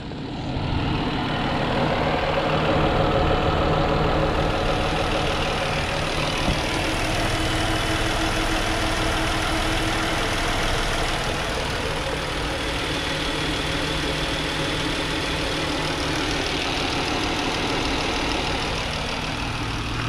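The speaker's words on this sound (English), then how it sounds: "And now I'll get out and let you listen to the motor." A 2013 Dodge Charger ex-police sedan with a 3.6-liter V6 idles steadily for twenty seconds, a continuous low engine rumble heard from close by, unchanging apart from faint background noise.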